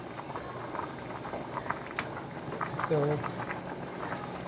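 Spaghetti sauce with wine simmers in a pan as a soft, steady bubbling and patter, quiet beneath a person talking.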